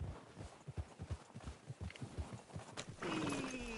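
Horses in the Red Dead Redemption 2 video game, with a rhythmic clip-clop of hooves on the ground, fairly close, followed by a short whinny near the end.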